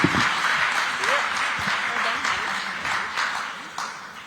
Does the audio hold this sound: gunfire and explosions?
no